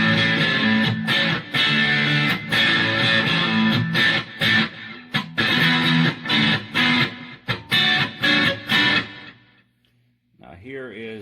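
Electric guitar on its middle single-coil pickup, driven through a Boss DS-2 Turbo Distortion set at 12 o'clock with tone at noon, plays loud chugging chords and accented stabs for about nine seconds, then stops before a short trailing phrase.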